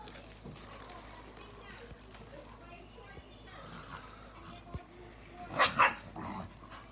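Two dogs, a mother and her grown pup, scuffle outdoors with a short burst of loud barking and growling near the end, over steady background noise and a person talking.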